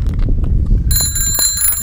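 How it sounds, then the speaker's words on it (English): A child's new hot pink bicycle bell rings out clearly partway through, sustained bright metallic dings up close over a low background rumble. "Wait, you got to ding the bell."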